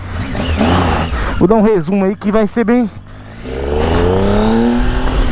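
A Triumph Tiger 800 motorcycle with its air filter removed revs in a quick burst of several rising-and-falling throttle blips, loud and close, followed by a steady idle with someone talking over it.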